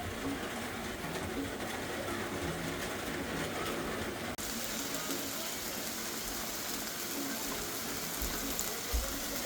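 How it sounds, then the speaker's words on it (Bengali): Heavy rain falling outdoors in Michigan, a continuous broadband hiss that fills the whole clip evenly and muffles everything else, with no clear voices. "বাইরে কিন্তু প্রচুর বৃষ্টি হচ্ছে"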